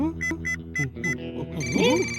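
A telephone rings in four short repeated electronic bursts, then gives way to a rising musical tone and a voice-like warble.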